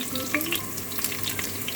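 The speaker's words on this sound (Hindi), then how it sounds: "इसके साथ हम प्याज डालते हैं और इसको पकाते हैं" Onions browning in a pot while cooking an Afghan kachalu qorma, a steady crackling sizzle with scattered sharp pops, close and fairly loud, with no one talking.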